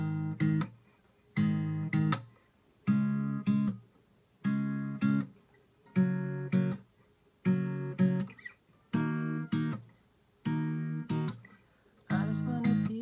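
A guitar without a capo plays the chords of a song. Each chord is strummed in a steady rhythm about every second and a half, clear and close.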